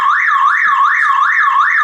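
A car alarm siren wails on with the battery's negative cable disconnected, a loud, close electronic tone sweeping up and down in a steady, rapid cycle of about five rises, alone without talk.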